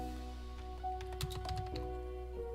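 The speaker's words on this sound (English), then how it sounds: "Sorry for the typing noises" A short burst of keyboard typing, a quick cluster of clicks over a steady electrical hum, with no talking.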